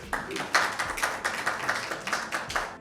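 A small audience at a Mother's Day mushaira claps to welcome a poet, with distinct rhythmic hand claps, fairly close and sparse rather than a full roaring applause.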